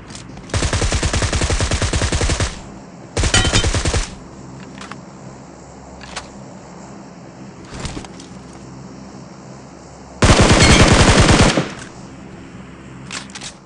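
Loud bursts of rapid automatic gunfire, three long volleys separated by quieter stretches with a few isolated shots, no talking.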